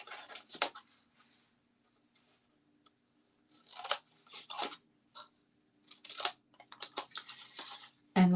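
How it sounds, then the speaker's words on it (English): Scissors snipping up the sides of a paper Christmas bag, a series of close, crisp cuts in quick clusters separated by quiet pauses. "So now I'm going to cut up the sides."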